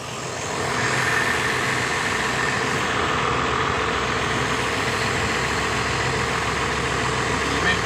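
A tractor engine idling at a sunflower field, a steady low diesel rumble that fades in at the start and then holds constant and fairly quiet without any voices.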